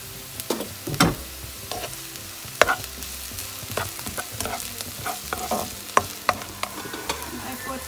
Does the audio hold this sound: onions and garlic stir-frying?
yes